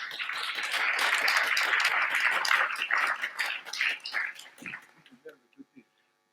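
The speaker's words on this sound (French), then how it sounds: "On vous applaudit." A crowd at a French official event applauds to welcome Joël Giraud, Secretary of State for Rurality. The dense clapping is steady at first, then thins into a few scattered claps and fades out after about five seconds.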